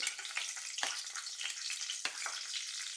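Cashews fry in hot oil in a kadhai, giving a quiet, hissing sizzle with a couple of brief scraping stirs.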